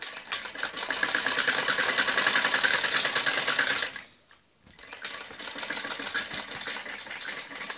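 A sewing machine stitches a kurti collar in a rapid, continuous mechanical whirr up close, stopping briefly in the middle before running again at a steady pace.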